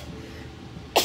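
A single sharp sneeze bursts out near the end, close and loud, after a stretch of quiet room noise in a clothing boutique setting.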